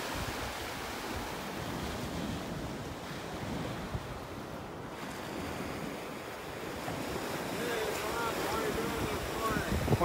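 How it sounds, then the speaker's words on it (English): Ocean surf rolling onto a beach in North Naples, Florida, with steady wind buffeting the microphone and waves building louder toward the end, a voice speaking over it. "Yeah, got some waves here."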